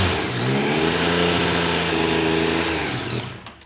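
Motorcycle engine with a charging fault revving up and holding high, then dropping back toward idle, close and steady with no voices.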